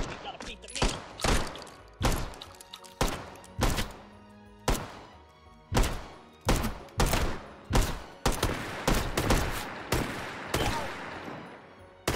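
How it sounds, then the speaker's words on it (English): Gunshots fire in the VR video game Hot Dogs, Horseshoes & Hand Grenades, a long series of loud, sharp reports coming in uneven bursts, some spaced apart and others rapid, with faint talk underneath. "Can't believe I missed all those shots."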